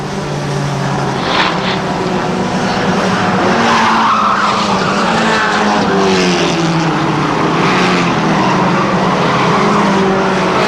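Stock mini race cars circling a track, their engines droning loudly and continuously with pitch rising and falling as they pass, plus some tire noise, with no voices over it.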